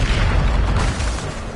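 A Bombarda spell explosion in Hogwarts Legacy bursts as a dense, loud blast with deep rumble and crackling noise, holding steady for a moment before easing off.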